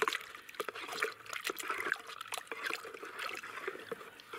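Water sloshes and trickles close by as powder is stirred and dissolved in a small amount of water in a container, with small clinks and splashes in an irregular rhythm.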